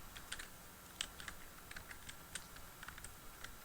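A username is typed on a computer keyboard as a run of quiet, irregular key clicks with brief pauses, close by and without talk.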